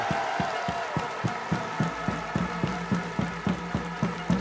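A large crowd applauds and cheers a rugby team on its return to Clermont-Ferrand with the Brennus trophy, with rhythmic clapping or drum-like thumps pulsing steadily beneath a dense wash of crowd noise.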